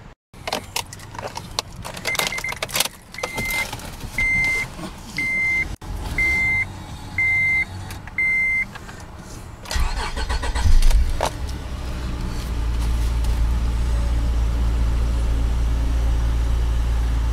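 A 2006 Acura TL at a dealership gives a series of evenly spaced chimes, then the starter cranks and the engine catches, settling into a steady close idle.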